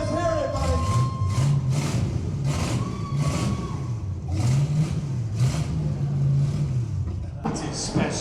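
A rebuilt, formerly fire-damaged Ford Mustang engine revs in repeated bursts, rising and falling several times at close range, while people talk and cheer over it.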